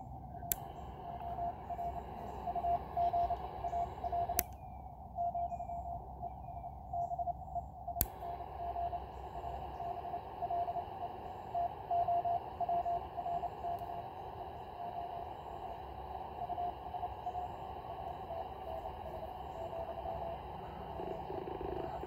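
Morse sidetone from a Penntek TR-45L transceiver with its notch filter engaged, a steady keyed tone pulsing in code rhythm over hiss, with a few sharp clicks along the way.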